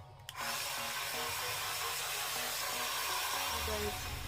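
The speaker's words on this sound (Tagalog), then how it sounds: "So, next step is hair dryer." A hair dryer clicks on and runs with a steady, loud whooshing hum, while a voice is faintly heard beneath it.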